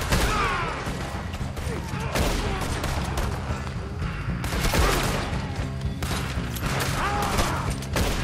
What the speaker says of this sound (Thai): ยิงกันเละ